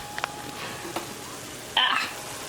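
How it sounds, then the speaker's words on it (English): Ground beef browns for sloppy joes while a wooden spoon stirs it, producing a faint, quiet sizzle broken by a few light taps and one brief, louder scrape. "we're just going to stir it up, let it get nice and brown"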